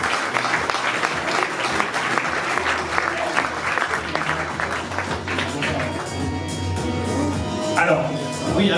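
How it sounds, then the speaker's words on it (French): A crowd at a half-marathon presentation in Nuits-Saint-Georges claps steadily and fairly loudly for people joining the podium, with a voice talking over the applause in its latter half. "on les applaudit très fort"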